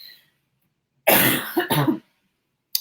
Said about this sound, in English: let me cough really quick